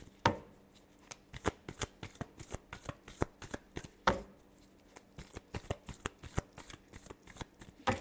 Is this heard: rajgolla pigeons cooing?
no